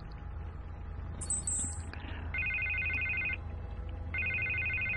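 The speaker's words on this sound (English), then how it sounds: "Phone, ring Harvey." A phone rings through a call in the video game Batman The Telltale Series, with two bursts of a steady electronic ringtone over a low background hum.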